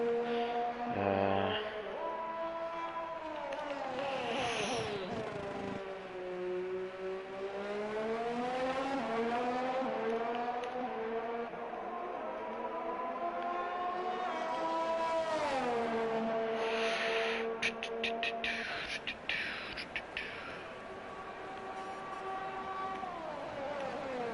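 Formula 1 AlphaTauri race car from F1 2021 at the United States Grand Prix, its high-pitched engine whine rising and falling through gear changes as it runs continuously and loudly on track, with brief tyre squeals.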